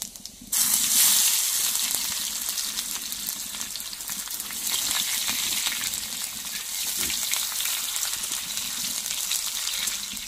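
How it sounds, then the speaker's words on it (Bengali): Dried chilli, bay leaf and onion hit hot mustard oil in a kadai with a sudden loud burst of sizzling that settles into a steady, close frying hiss for the rest of the clip. "আমি প্রথমে কড়াইতে সর্ষে তেল দিয়ে শুকনো লঙ্কা ফোড়ন দিয়ে দেবো, তেজপাতা দিয়ে দেবো, পেঁয়াজ দিয়ে দেবো।"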